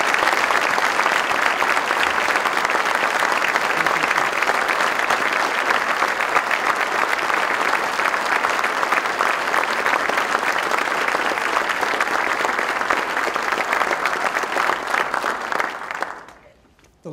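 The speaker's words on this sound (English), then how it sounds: "I'd like to give them a round of applause," Sustained, dense applause fills the hall at a military end-of-service ceremony, holding at a steady level for many seconds before dying away abruptly at the close.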